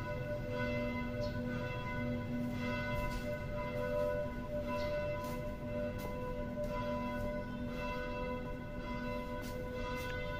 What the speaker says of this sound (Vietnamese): Mỗi ngày thì chuông nhà thờ vang lên 3 lần.